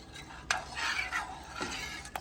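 Breaded tomatoes fry in a pan with a soft, even sizzle, broken by a few light clicks of a utensil against the pan.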